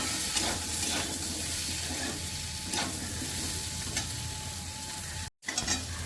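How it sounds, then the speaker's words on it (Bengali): Ground chilli, cumin and coriander powders are stir-fried in a pan, producing a steady, moderate sizzle with repeated stirring scrapes and a short break near the end. "এবার মশলাটা আমি কষিয়ে নেব, ভালো করে একটু ভেজে নেব"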